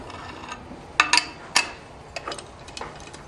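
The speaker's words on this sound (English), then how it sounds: "take your 8mm wrench and pull off your ignition cover." An 8mm wrench loosening ignition cover bolts on a Pitster Pro pit bike, giving a few sharp metallic clicks and ticks close by, followed by fainter light clinks, with no voices.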